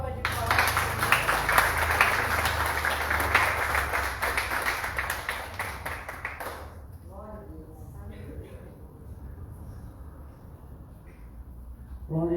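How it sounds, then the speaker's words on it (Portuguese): A church congregation bursts into loud, dense applause for about six seconds, then the clapping fades into the quieter murmur of the room. "Dá uma salva de palmas."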